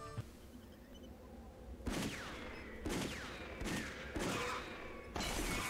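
Gunfire from the video game Chicken Hunter: Wanted Dead or Alive rings out in about five loud, separate bursts with brief pauses between them, each blast hard-edged and crackling over a quiet background hum.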